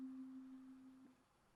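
A kalimba sample processed with a Portal wobble preset rings out as a single sustained pitched tone that wavers slightly, then fades over a quiet background.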